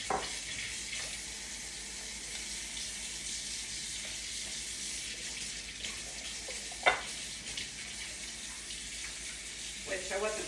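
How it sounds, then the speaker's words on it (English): Running tap water pours steadily into a sink while a small lip gloss applicator is rinsed under it, a continuous close hiss broken by a few light knocks and clinks against the basin. "I'm gonna wash this really fast so that I can use it on the correct color"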